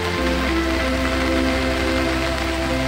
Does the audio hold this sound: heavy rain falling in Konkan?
yes